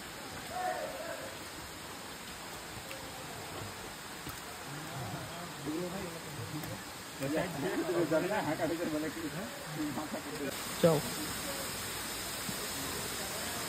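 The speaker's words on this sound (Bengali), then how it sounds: "ফাইনালি গাইজ আমরা ঝর্ণার শব্দ শুনতে পাচ্ছি" Steady, soft rushing hiss of a waterfall in Mirinja Valley, continuous and fairly distant, with faint voices in the background.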